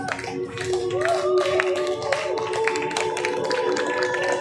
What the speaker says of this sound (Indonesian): kasih lagi tepuk tangan yang mulia